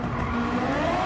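Suzuki Swift Sport with a swapped engine in Gran Turismo 7, wheels spinning under power: a loud, steady engine drone with rising pitch and tire noise, continuous throughout the short burst.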